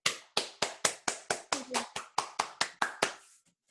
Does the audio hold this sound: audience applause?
yes